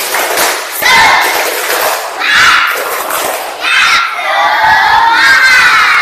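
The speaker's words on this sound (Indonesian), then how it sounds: "Nah, tepuk semangat." Pupils in an Islamic religious education class do the 'tepuk semangat' clapping chant together, with loud, energetic group voices shouting in repeated bursts over rhythmic claps and thumps.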